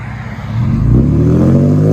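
A Cadillac CTS 3.6L V6 coupe with a modified loud exhaust accelerates hard nearby, its engine note rising steadily from a low rumble into a loud sustained roar.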